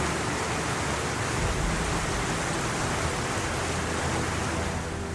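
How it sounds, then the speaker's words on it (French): River water rushing steeply down cascades in a French landscape, a dense, steady roar of falling water that stays constant and fairly loud throughout, with no voices. "l'eau des rivières dévale brusquement la pente en formant des cascades dans un bruissement"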